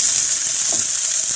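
Garlic and onion frying in a pan while being stirred with a bamboo or wooden spatula, a steady loud sizzle with faint scraping underneath.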